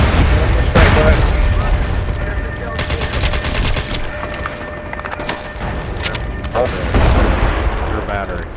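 Explosions from a mortar battery strike in the online shooter MAG, with dense, loud overlapping blasts and crackling gunfire running throughout a battle.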